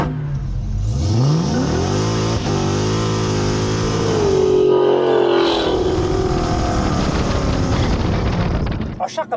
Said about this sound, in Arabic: السيارة عليها محرك هيلكات، جير بوكس هيلكات، سوبر تشارج